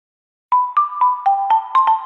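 Tulatero lottery app jingle, a short bright electronic melody of about eight quick chime-like notes in a bouncy rhythm, clean and alone after a moment of silence.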